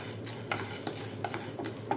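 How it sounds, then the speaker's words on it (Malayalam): Chana dal dry-roasting in a hot pan, stirred steadily so the lentils scrape and rattle against the metal in soft repeated strokes over a faint background hiss, close and fairly quiet with no talking. "കടലപ്പരിപ്പൊക്കെ നല്ലോണം വറുക്കണം കേട്ടോ"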